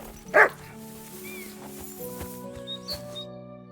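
A single short dog bark near the start, then quieter yips over steady background music and ambient game sounds in Kingdom Come: Deliverance II.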